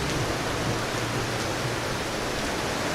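Steady, dense hiss of rain pouring down at a surf beach during a surf contest, loud and unbroken, with a low rumble underneath and no one talking.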